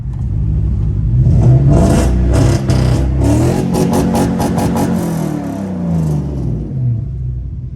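A Mercedes W140 with muffler-deleted exhaust revs loudly and close, its deep raspy rumble rising and falling through a run of sharp throttle blips.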